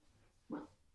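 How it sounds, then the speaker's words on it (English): A single short dog bark sounds faint and somewhat distant against a quiet indoor background. "I don't know if you can hear my dog barking."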